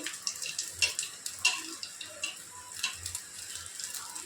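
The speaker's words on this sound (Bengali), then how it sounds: "লাস্ট এই কটা ছিল এই কটা আমি ভেজে নিচ্ছি" Crispy snacks frying in oil at close range, giving a soft, uneven crackle and sizzle with scattered pops and spatters, fairly quiet and without talking.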